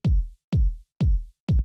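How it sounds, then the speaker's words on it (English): A big, boomy old-school house kick drum with deep low end thumps four times in a steady beat, each hit punchy and resonant with a falling pitch, loud and isolated with brief gaps between. "the next thing that we have here is the kick"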